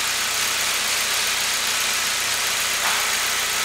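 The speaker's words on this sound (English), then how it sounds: "The engine is running really good." A 2008 Saab 9-3 with a 2.0T engine being checked for a random misfire idles up close, a loud, steady hum and whir with a broad hiss on top, unbroken for the whole stretch and with no talking.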